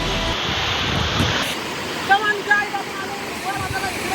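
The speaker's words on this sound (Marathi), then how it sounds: "एकदम जवळच्या जवळ आपल्या मंदाकिनी डोंगराला हा धबधबा आहे मित्रांनो." A waterfall on a hill pours steadily as a broad, continuous rush of falling water, with someone talking over it and a few faint higher chirps partway through.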